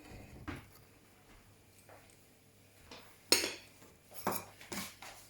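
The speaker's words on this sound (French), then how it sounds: "je vais continuer à couper" A knife cuts floured dough on a board with irregular light taps and sharper knocks, about seven in all, spaced apart over quiet kitchen background.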